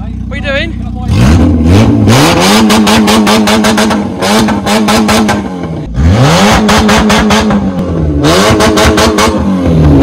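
An engine with its exhaust missing revs hard in repeated loud, raw bursts, rising and falling over several seconds with brief dips between pulls.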